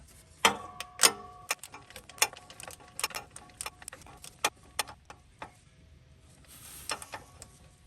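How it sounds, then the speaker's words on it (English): A 24 mm socket on a flex-head gear wrench ratchet tightening the fill plug on a Toyota Highlander transfer case, giving a rapid series of sharp metallic ratchet clicks in irregular bursts, close and clear in a quiet space. "now I'm going to tighten it up with the same combo 24 millimeter socket and flex head gear wrench ratchet"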